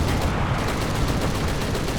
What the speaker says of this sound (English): My hearing his gunfire is the first I knew he was even there.